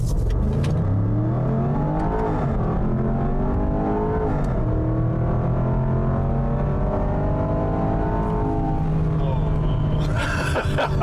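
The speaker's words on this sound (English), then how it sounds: "why don't we get the Range Rover Sport out on the road and see how it drives?" A Range Rover Sport HSE Dynamic launching from a stop, its engine loud and close as it revs up in rising sweeps with shift drops, then settles into a steady cruise before wind noise at the end.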